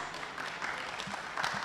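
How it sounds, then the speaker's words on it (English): An audience at a startup pitch event claps briefly, a soft, distant patter of applause in a large room. "Big round of applause"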